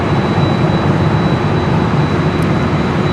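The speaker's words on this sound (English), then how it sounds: "Air Tahiti Nui, the Dreamliner heading to Paris." An Air Tahiti Nui Boeing 787 Dreamliner jet bound for Paris roars steadily and loudly at an airport, a continuous broadband engine rumble with no talk.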